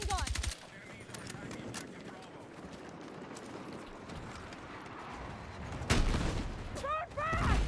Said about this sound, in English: Hostile machine gun.